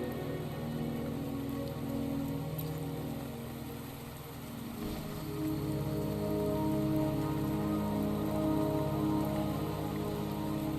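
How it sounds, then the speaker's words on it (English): Rain falling in the video game Wuthering Waves, a steady patter on surfaces mixed with a low ambient drone and music, continuous and moderately loud throughout. "Don't worry, the rain won't last much longer."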